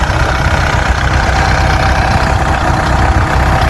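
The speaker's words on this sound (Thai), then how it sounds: "รถไถ47 ครับนี่" A tractor's steady low engine idle chugs continuously at close range in a rice paddy, a constant mechanical rumble with no voices.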